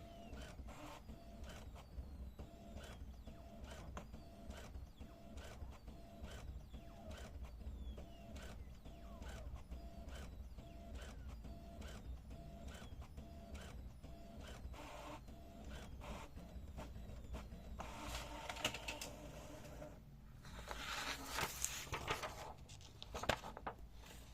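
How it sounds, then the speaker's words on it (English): A Brother DCP-T series inkjet printer runs a nozzle check print, with steady rhythmic mechanical clicking and whirring of the print carriage close by, ending in louder paper-feed rattles and creaks. "It will print a nozzle check pattern."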